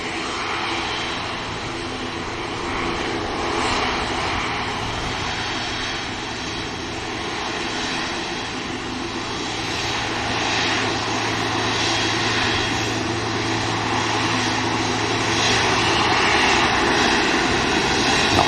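Boeing 777 lining up for departure to Doha at Manchester Airport, a sustained jet engine drone with a low steady hum, gradually growing louder, heard alone without talk.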